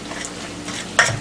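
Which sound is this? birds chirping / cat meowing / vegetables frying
vegetables frying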